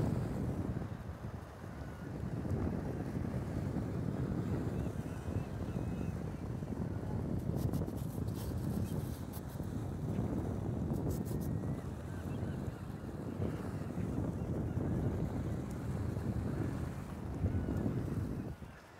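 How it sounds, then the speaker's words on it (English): Sea waves and wind on the stormy rocky coast at Prouts Neck in thick fog, a steady roar of surf with swelling rushes and constant wind buffeting the microphone, no voices. "it's more and more about the sea, the waves. You can hear it through the microphones."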